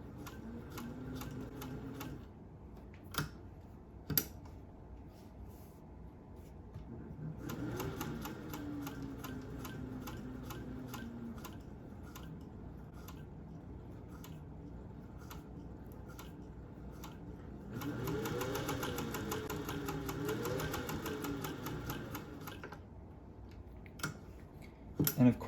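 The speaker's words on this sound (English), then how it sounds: "a fairly quiet machine that runs very smoothly" A restored vintage Singer 201-2 sewing machine with a potted motor and Bakelite foot pedal runs in several stretches, a smooth, quiet mechanical whir with rapid rhythmic ticking, speeding up and slowing between pauses.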